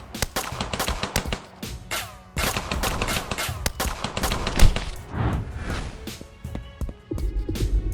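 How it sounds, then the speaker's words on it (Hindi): Rapid bursts of gunfire fill an animated action scene, with dense, crackling volleys of shots following one another almost without pause, loud and close throughout. "आरव के आदमी मेहुल के ऊपर फायरिंग कर देते हैं।"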